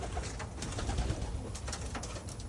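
Pigeons or doves coo steadily indoors, close and moderately loud, over a rough background hiss with no talking.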